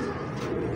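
Pigeons cooing in a loft of antique-breed birds, a dense, continuous murmur of overlapping coos close by with no gaps.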